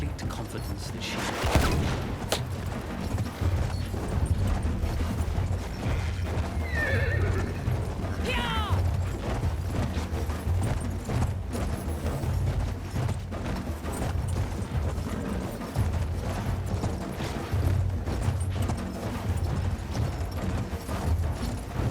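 In the World War I shooter Battlefield 1, a horse whinnies loudly while hooves clip-clop steadily, with distant gunfire and battle noise around it and someone talking over the top.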